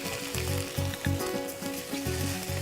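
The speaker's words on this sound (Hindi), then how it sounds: "हल्का सा इसे और भून लीजिए।" Vegetables frying and being stirred in a pan for a Pakistani-style sabzi qorma, a steady close sizzle with periodic scraping strokes of the spoon recurring every half second or so, no talking.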